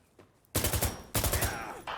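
Bursts of video game gunfire in a multiplayer shooter, two loud rapid volleys of automatic fire separated by a short pause, with a brief third burst starting at the end, no talk over it.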